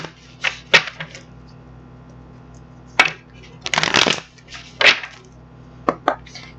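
Tarot cards shuffled and handled during a reading, a few separate bursts of quick riffling and slapping with pauses between them, close and fairly loud, with no talking.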